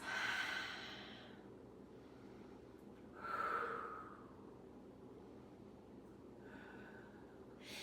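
Slow, deliberate breaths drawn and released in a senior yoga session, with the person holding a wide-legged split; three soft airy exhales spaced a few seconds apart, close and quiet over a faint room hiss.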